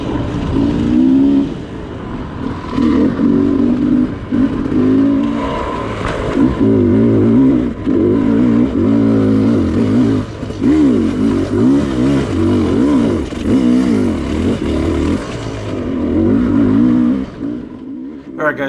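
A Sherco dirt bike engine roars steadily through a test ride, revving and surging in a continuous loud drone with rising and falling pitch, heard up close from the rider's position.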